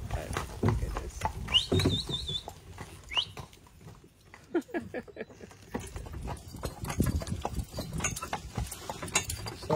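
Horse hooves clip-clop steadily on the road as a horse pulls a carriage through a large national park in Ireland, the rhythmic knocks running under people chatting nearby.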